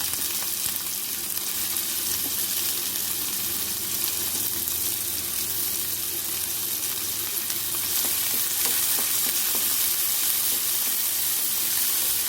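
Garlic and onion frying in a pan as the base for spicy street-style Chinese masala Maggi noodles, a loud, steady, close sizzle with faint stirring scrapes and no talking.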